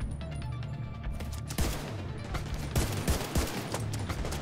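Rifle fire in The Division 2, a fusillade of loud close shots and bursts over a rumbling combat backdrop, with overlapping cracks coming in quick clusters.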